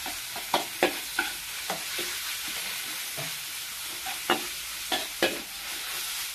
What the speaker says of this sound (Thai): เตรียมเครื่องปรุงเสร็จแล้วนะแล้วก็มาผัดหมูค่ะนะคะ